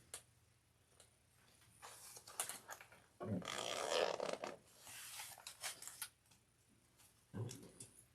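Zipper on a slouch shoulder bag slid along during sewing, giving several short rasping bursts of varying length, the loudest near the middle, with quiet pauses between them.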